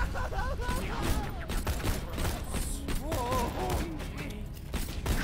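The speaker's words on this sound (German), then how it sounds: "Schüsse." Rapid bursts of video game gunfire from Borderlands 2 crack and thud in quick succession, with a person talking intermittently over the shooting.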